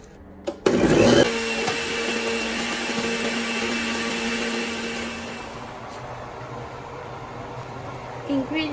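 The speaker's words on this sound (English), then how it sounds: "I'm gonna go ahead and grind my other ingredients" A kitchen blender whirs loudly as it grinds the ingredients for stewed goat meat with plantains, starting with a sharp jolt and then running as a steady, close motor drone that fades slightly toward the end.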